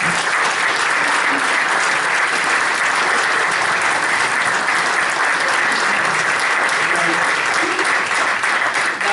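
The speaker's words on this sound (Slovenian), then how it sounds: "In mislim, da si zaslužijo aplavz" An audience at a Slovenian cultural gathering claps steadily, a loud dense wash of applause that holds at even strength throughout without pause.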